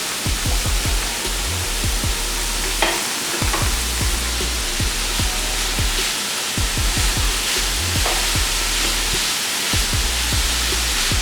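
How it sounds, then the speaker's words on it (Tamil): Grated carrots sautéing in ghee for carrot halwa give a steady, close sizzling hiss throughout, broken by repeated scraping and stirring knocks from a spoon in the pan. "கேரட்டை கொஞ்சம் நெய்யில் அப்படியே வதக்கிக்கலாம்."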